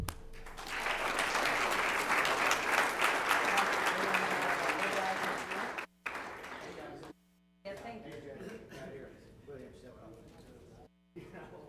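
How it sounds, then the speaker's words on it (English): A school board meeting audience gives a round of applause, steady and fairly close for about six seconds, then trailing off into scattered claps and room murmur with faint hum. "Round of applause"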